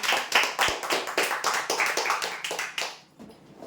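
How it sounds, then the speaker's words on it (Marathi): A crowd breaks into hearty applause at a prize draw, a dense burst of clapping that holds strong for about three seconds before quickly dying away. "जोरदार टाळ्या"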